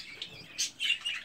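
Budgerigars, including Japones budgies that are moulting, give a few short, bright chirps and tweets in quick bursts, fairly close and alone without talk.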